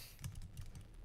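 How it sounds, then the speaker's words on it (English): A computer keyboard is tapped in quick bursts while the same buttons are spammed during a Roblox game, with soft, close clicks at low volume and no speech. "You hear my keyboard."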